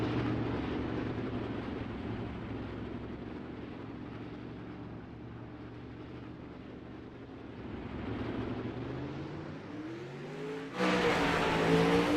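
Race cars drone steadily as they roll around the track at the start of the first lap, at a moderate distance. Near the end, a louder engine swells and rises in pitch as it speeds up close by.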